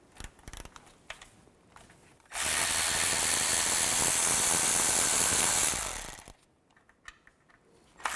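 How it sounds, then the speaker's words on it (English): Bolts around the oil pan of a 2011–2014 Chrysler 200 are worked loose with a 10mm socket, giving a loud, continuous power-tool whir for about four seconds. Faint scattered clicks and taps come before and after it. "Now I'm going to remove all these small bolts that surround the oil pan."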